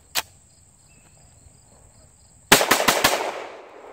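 Shots from a CZ Shadow 2 pistol at a shooting range: one crisp shot, a pause, then a quick string of about five loud reports with a short fading echo.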